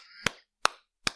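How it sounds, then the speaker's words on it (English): Three sharp, crisp hand claps, evenly spaced about 0.4 seconds apart, close and alone, with silence between them. "You don't get to steal my clap. This clap is only for Tom."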